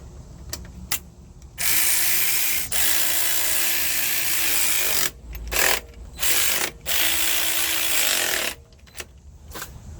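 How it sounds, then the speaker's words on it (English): A ratchet clicks rapidly and loudly while tightening the throttle body bolts on a 2002 Nissan Sentra during a head gasket job, in several long runs separated by short pauses and single clicks. "Tightening up the throttle body bolts."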